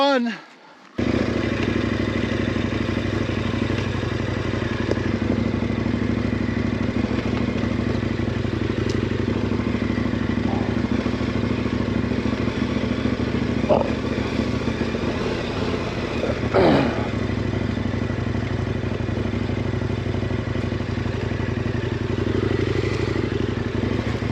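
A KTM 1090 Adventure motorcycle ridden along at a steady engine drone, close and loud, with occasional clatters and thumps from the road; a voice talks over it.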